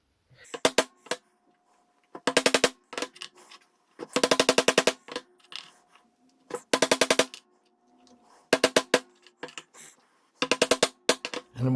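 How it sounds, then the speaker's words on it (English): A hammer drives a screw against a stompbox enclosure to punch starter holes, giving sharp metallic strikes in quick bursts of several blows each, separated by short pauses, close and loud with no talking. "just going to punch the holes to make it easier to drill. Just using a screw and a hammer here."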